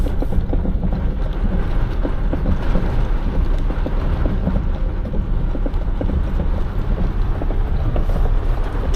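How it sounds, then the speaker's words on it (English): Heavy rain drums steadily on a box truck in Texas, heard from inside the cab as a dense, loud, unbroken roar with scattered sharper patters throughout. "But as you guys can see, it's raining really, really bad, yo."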